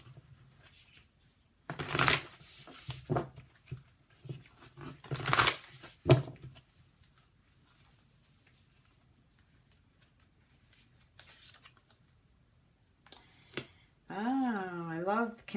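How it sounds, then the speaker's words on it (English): A deck of Whisperville Love Angel oracle cards is shuffled in a few quick riffling bursts, close and moderately loud, separated by quiet pauses, with a voice speaking near the end. "so I want to pull some Whisperville Love Angel cards"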